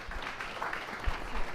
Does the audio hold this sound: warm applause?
yes